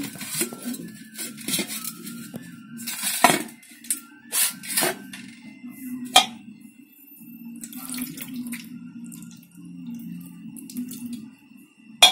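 Water splashes and trickles as it is poured over a small Gopal idol during its bath, with a steady running-water wash broken by clinks of metal vessels, close and moderately quiet.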